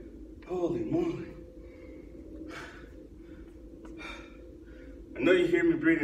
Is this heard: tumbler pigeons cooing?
no